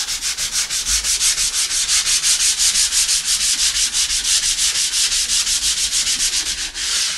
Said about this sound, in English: so we'll use our sanding disc